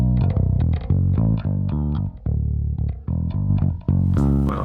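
Electric bass line run through a soft distortion, sounding growly and saturated: a loud, continuous riff of plucked notes in short rhythmic phrases, with a brief cymbal-like wash near the end.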